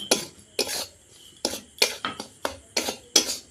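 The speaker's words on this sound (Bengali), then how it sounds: "দু চামচ আমল দুধ দিয়ে দিয়ে ভালো করে আবার এই সুজির সাথে হালকা আঁচে নেড়ে নেব" A spoon stirs semolina mixed with milk powder in a pan over low heat, giving a series of sharp scraping and clinking strokes against the metal, close and fairly loud, in an irregular rhythm with no voices.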